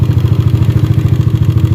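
A Yamaha Aerox scooter engine runs at steady revs with a fast, rhythmic ticking rattle from an engine fault pulsing through it, close and loud, no voices.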